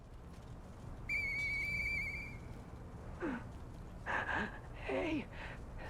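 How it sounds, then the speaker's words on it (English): A whistle in the video game Lies of P: a sustained high whistled tone followed by short rising and falling whistle calls, moderately loud, with no speech over them. "I know that whistle."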